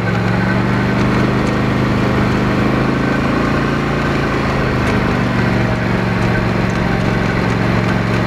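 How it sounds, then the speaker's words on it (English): A four-wheeler ATV engine drones steadily and loudly up close as it rides a lap around a race track, a constant buzzing rumble with no talking. "We're going to take a lap around the track on the four-wheeler"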